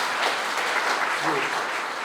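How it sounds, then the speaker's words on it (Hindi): Applause from an audience at a natural farming dialogue event with a state governor, a steady dense patter of clapping filling the short clip at moderate level. "ताली बजाई थी।"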